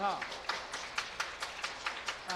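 A church congregation claps in welcome for a visiting family during a Sunday service, giving a soft, fairly steady patter of hands with regular accents, heard at a moderate distance.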